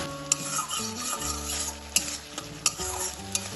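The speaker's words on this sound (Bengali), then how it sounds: "ভালোভাবে সব কিছু তেলের সাথে কষিয়ে নেবেন" Spices, green chilli and ginger sauté in hot oil in a pan for a Bengali egg posto curry, giving a steady close sizzle with scraping stirs and sharp clinks of a spoon against the pan.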